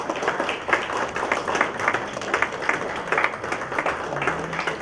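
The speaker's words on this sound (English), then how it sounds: "with a standing ovation and with a big round of applause" Audience applause at a media summit as the Goa Governor is invited to the dais, a steady dense wash of many hands clapping at moderate level for several seconds with no talk over it.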